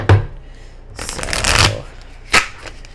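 Tarot cards being shuffled by hand, a loud riffling burst near the start, then a longer rustling shuffle and a sharp snap of cards near the end, close up with brief talk.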